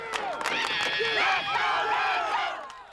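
Home crowd at a high school football game between Rancho and the Sonora Raiders at La Habra High School, yelling and cheering continuously in a dense roar of many voices throughout.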